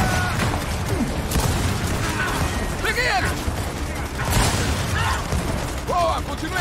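Gunfire and explosions from the Gears of War 4 video game, including shotgun blasts, mixed with dense game effects, several loud bursts in quick succession under ongoing player chatter.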